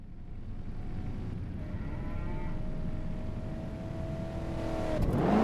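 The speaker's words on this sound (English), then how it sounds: "I can hear a big engine coming!" A big car engine in the Crash Time 5 video game approaches over a low background hum, its tone climbing and swelling until it surges loud at the very end.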